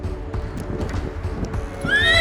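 A ridden horse at a canter has its hooves thudding in a steady rhythm on a riding ground, then lets out a loud, shrill whinny near the end.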